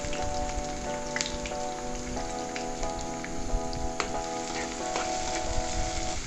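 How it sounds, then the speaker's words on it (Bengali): Chopped onions frying in hot oil in a wok for chicken do pyaza, a dense steady sizzle with crackling pops and some stirring, loud and close with no talking. "কড়াইয়ে তেল গরম করতে দিয়েছি, এবার আমি পেঁয়াজ কুচিগুলো দিয়ে দিলাম।"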